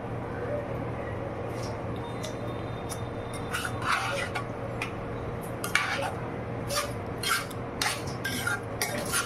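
Vegetable curry being stirred in a pan, with a spoon scraping and clinking against the metal in quick, irregular strokes over a steady low kitchen hum, fairly faint and close.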